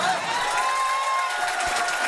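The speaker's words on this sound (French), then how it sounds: "Et ils rigolent et ils applaudissent." Audience in a televised French political debate applauding and cheering steadily for about two seconds, a dense wash of clapping with crowd noise mixed in.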